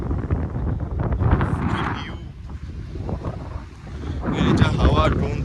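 Strong wind gusting across the microphone at a private beach resort near Puri, a steady loud roar with surf-like rushing, while people talk faintly underneath.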